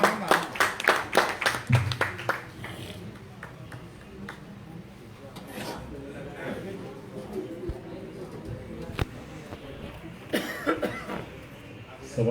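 An audience in a theatre hall claps in a burst of sharp, close applause that fades out within a few seconds, followed by scattered coughs and low murmuring, with a few more claps near the end.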